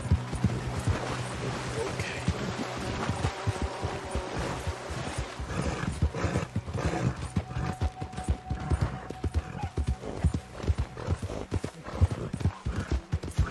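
A horse gallops in the Red Dead Redemption 2 video game, its steady rhythmic clip-clop of hooves loud and close throughout, with no talk over it.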